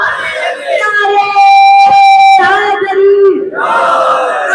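A large crowd at a religious majlis gathering loudly chants a slogan in unison, with long sustained tones rising and falling across several seconds.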